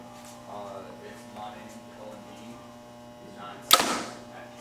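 A Hoyt Twin Turbo bow looses a 510-grain arrow in one sharp, loud crack of release, heard after a stretch of quiet talk over a steady electrical hum.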